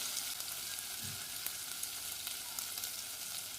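Cumin seeds sizzle in hot oil for a Swahili chicken biryani: a steady close hiss of frying with small crackles and pops throughout, no talking.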